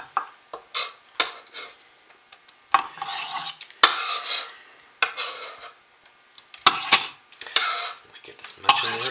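Bar soap pieces dropped and scraped into a quart-sized glass canning jar, producing irregular clinks and rasping rubs in separate bursts with quiet gaps between.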